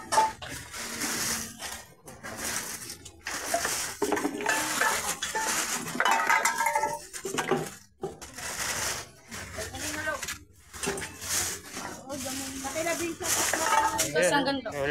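Metal cooking pots clanking and scraping as they are handled among scrap at a junk shop, with continuous jangling and clinks heard close under people talking.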